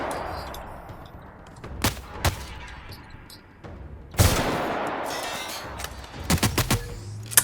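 Scattered gunfire from a weapon in The Outer Worlds: isolated sharp shots, then a louder burst with trailing rumble and a quick rattling cluster near the end, loud against low background noise.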